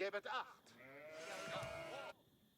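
Sheep bleating in a video game, with a short call near the start and a drawn-out, wavering bleat through the middle, set against steady game ambience.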